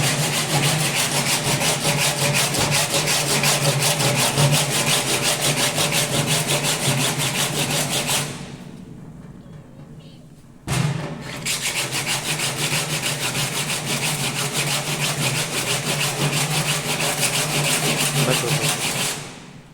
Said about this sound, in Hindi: पहले आप एक एमरी पेपर पे आप मतलब हॉरिजॉन्टल घिस रहे हो तो दूसरे वाले पे वर्टिकल